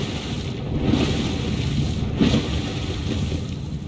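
A steady wash of water and engine rumble from a boat in a video game, cutting across waves, constant and fairly loud with no speech.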